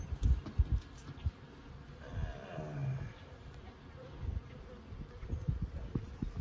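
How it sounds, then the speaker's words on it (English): A dense, steady hum of many honey bees buzzing close by in a hive, with low rumbling handling bumps and knocks throughout. "That's what these bees be singing all the time."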